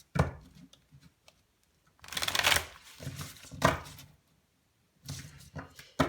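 Tarot cards being shuffled by hand in three bursts of brisk, papery riffling and slapping, close and fairly loud, separated by short quiet gaps, with no talk over them.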